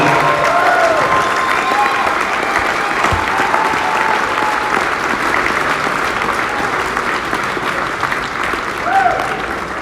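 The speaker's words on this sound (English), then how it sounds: "Can we have a huge round of applause for Robin Dawn?" A concert audience at a tribute show applauds, dense sustained clapping filling the hall at close range, loud and unbroken for the whole stretch.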